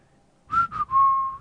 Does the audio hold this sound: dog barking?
no